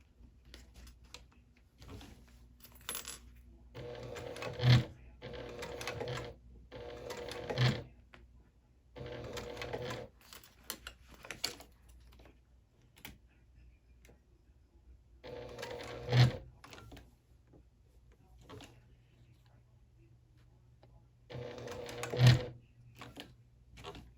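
A sewing machine stitches in several short bursts while working over a thick spot of a small circle wristlet bag, each run a chattering whir separated by pauses and soft handling clicks.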